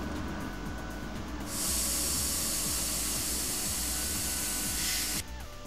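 Spray paint hisses through a stencil to paint the letter Q, one loud continuous burst of about three and a half seconds, with quieter mechanical background before and after.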